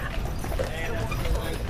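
Percheron draft horse hooves clip-clop steadily on the ground close by, with a driver along, the rhythmic hoofbeats running under continuous nearby talking.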